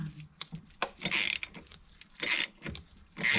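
A small socket on a 1/4 inch adapter ratchets a stainless steel bolt out of an aluminium Sea-Doo jet pump housing, with bursts of quick clicking separated by scattered clanks and handling knocks, close up and with no talk.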